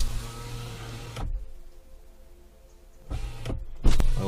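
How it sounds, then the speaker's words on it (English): The electric power windows of a 2019 Hyundai Kona Electric run in two bursts, a close motor hum that stops abruptly, then after a quiet pause whirs and clunks again briefly. "I will lower both windows."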